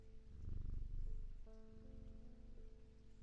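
A cat purring as it is petted in the video game Strange Antiquities, a faint, low rumbling purr that fades into a soft tonal chime in the quiet background.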